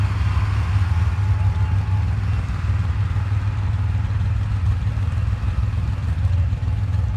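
Race car engines run steadily at the SCSDA season opener at a track in San Jacinto, California, a continuous loud, low droning rumble with no clear breaks.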